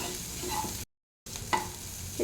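Cluster beans stir-frying in oil, a steady close sizzle broken by scraping stirs, with a brief silent gap in the middle.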